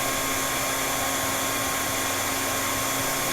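A hair dryer blows steadily and loudly at close range, drying a freshly painted stencil on a bluegill crankbait fishing lure, a continuous even whir with no talk.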